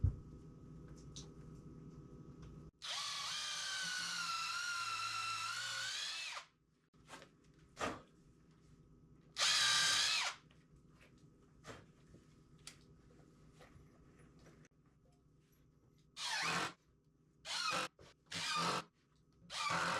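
A power drill drives screws into wood in short bursts: one long whirring run, then several brief pulls, with quiet pauses between them.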